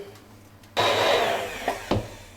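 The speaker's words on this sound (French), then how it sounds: "Et puis, on va mixer." A blender roars on abruptly, puréeing a batch of cooked apples for homemade compote. The loud, even whir holds for under two seconds, then eases off with a couple of short bumps near the end. No one speaks.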